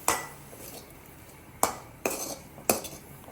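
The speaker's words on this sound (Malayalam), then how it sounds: "നന്നായിട്ടൊന്ന് മിക്സ് ചെയ്യാം." A spoon clinks against a pan while samosa masala filling is stirred with lemon juice, giving four separate metallic knocks with ringing tails, spaced unevenly and close by.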